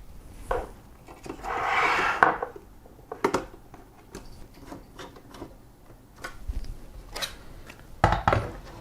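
Small screws being driven into a graphics card shroud with a screwdriver: scattered faint ticks, clicks and scraping rubs, close up, with a brief louder rustle early on and no talking.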